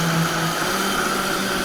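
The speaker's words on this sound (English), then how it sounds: "make sure that nothing's sticking to the bottom of your blender. So turn it on." A blender whirs steadily as it blends a cookies-and-cream breakfast smoothie, a loud, constant motor drone that holds for the whole stretch with no talk.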